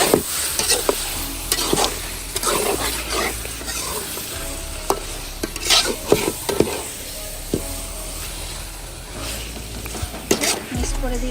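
Chicken pieces sizzle and fry in a spiced masala while a spatula stirs and scrapes the pan in repeated strokes, close and fairly loud for a village picnic curry, with no talking.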